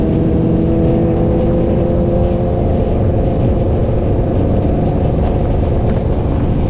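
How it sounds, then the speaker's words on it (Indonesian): A motorcycle engine drones loudly and steadily at close range, holding a constant rumbling pitch without sharp revs, like riding at moderate speed. "rasakan suara dari motor kalian"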